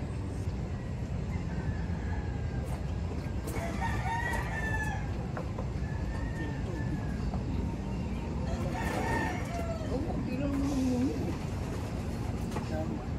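Barako gamecock roosters crow repeatedly during a training session, the harsh calls rising over a steady bed of outdoor noise, with voices nearby.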